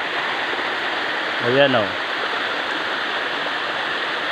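Steady broadband rush of a tall waterfall and clear flowing stream water fills the scene continuously, with a brief spoken word near the middle.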